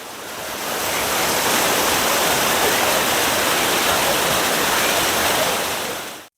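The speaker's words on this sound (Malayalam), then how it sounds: "വെള്ളത്തിന് അത്രയ്ക്ക് നല്ല സൗണ്ട് അവിടെ" A waterfall in Ernakulam, Kerala roars in a dense, unbroken rush of water, loud and close, fading in at the start and cutting off at the end.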